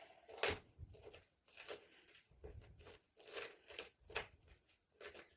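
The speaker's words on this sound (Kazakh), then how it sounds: "оны қасықпен езгілейміз" A walnut wrapped in a paper napkin is pressed and crushed with a spoon, giving a series of faint, close crackling and crumpling bursts at an uneven rhythm with quiet gaps between them.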